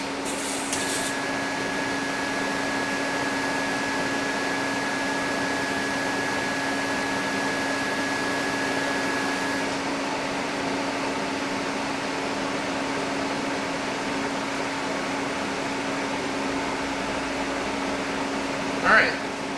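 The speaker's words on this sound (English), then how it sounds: "that's why I kind of keep the TIG torch over top of it for a couple seconds" A TIG welding torch works over metal, giving a steady, even hiss-like hum with a constant low tone that holds for the whole stretch, a brief sharp click near the end.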